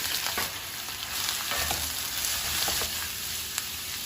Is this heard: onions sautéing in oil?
yes